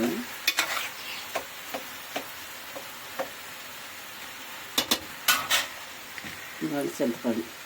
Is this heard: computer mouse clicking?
no